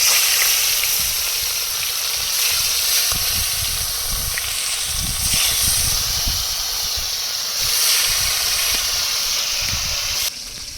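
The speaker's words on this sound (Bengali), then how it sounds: "তেল গরম হয়ে গেছে মাছগুলো ভেজে নেব" Bhetki fish frying in hot oil, a loud, continuous hiss and sizzle with dense crackling pops that hold steady for about ten seconds before dropping slightly at the end.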